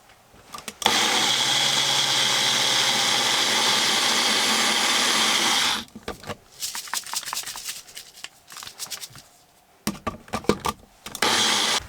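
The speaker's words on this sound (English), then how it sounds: "I'm gonna blend the banana and the milk" A blender blending banana and milk whirs loudly and steadily for about five seconds, then runs in short stuttering pulses with brief pauses between them.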